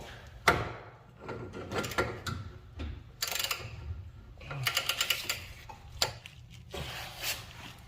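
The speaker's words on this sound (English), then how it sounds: "Put a snipe on it, and then you put your torque wrench" Torque wrench tightening an inner tie rod on a Ford Edge, heard as close, scattered metallic clicks and ratcheting clatter with brief pauses.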